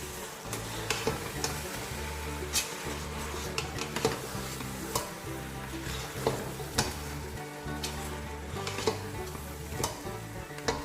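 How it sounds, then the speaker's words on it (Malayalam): Fried chicken, chopped herbs and tomato stirred together in a pot for chicken biryani, a soft steady sizzle with repeated sharp spoon scrapes and clinks against the pan, close and quiet, no talk. "ഫ്രൈഡ് ചിക്കനും ചേർത്തിട്ടൊന്ന് നന്നായി ഇളക്കി കൊടുത്താൽ മതി"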